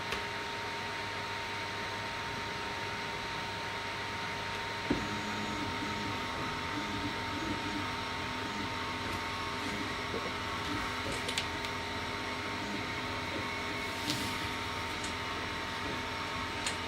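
COMGO Z1 laser engraver running: a steady droning whir of fans and motors with faint tonal whines, occasional small clicks and a brief knock, continuous and close with no talking.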